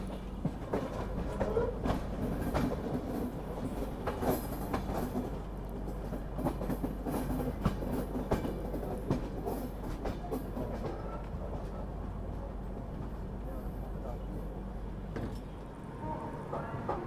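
A train rolls over crossing rail lines toward a platform at Prayagraj, wheels clattering in a rapid irregular rhythm across the points, loud and continuous with sharp clicks and knocks.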